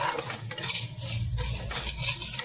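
Mung dal cooked with a fish head being stirred and scraped in a pot before going into a pressure cooker, a continuous wet shuffling with light metallic scrapes and a faint sizzle.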